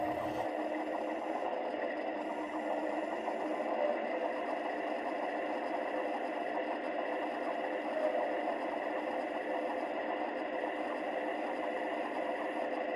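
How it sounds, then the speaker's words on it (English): A Lionel TMCC motorized model train crane rotates on its base, giving a steady mechanical whir and motor drone that holds evenly throughout, close and moderately quiet with no talking. "The throttle dial turns the crane left and right."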